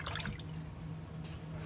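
Raw oxtail is washed under water, with a soft steady trickle and faint drips close by over a low hum, and no talking.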